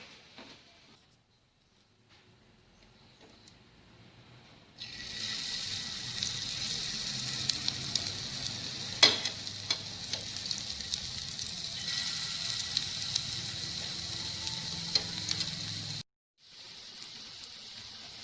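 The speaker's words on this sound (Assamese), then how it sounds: "এতিয়া ইয়াত বৰখিনি এটা এটাকৈ দি ভাজিম" Hissing, crackling oil rises sharply partway through as night jasmine flower fritter batter goes into the pan, then sizzles steadily at moderate volume on medium flame before briefly cutting out.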